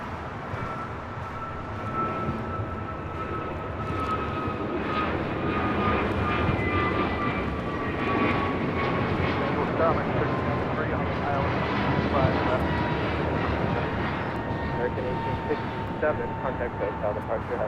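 Airbus A321neo airliner taking off at LAX, a loud broad jet engine roar with a rising whine that swells and holds throughout, heard from the ground, with talk over it.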